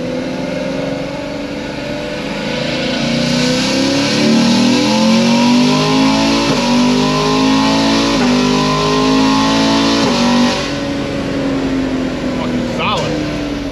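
A car with an LT1 engine accelerates hard, its loud, close engine note rising steadily through several gear steps, then dropping away near the end.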